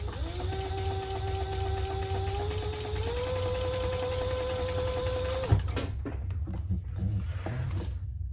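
A sewing machine stitches beneath a wallet card slot, its steady motor hum running with a rising pitch step partway, then stopping with a clunk and a few light handling knocks.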